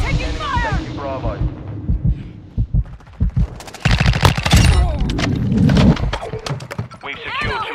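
Gunfire in a first-person shooter video game, with scattered single shots early on and then a dense, loud burst of rapid fire in the middle, mixed with shouted voices and game callouts.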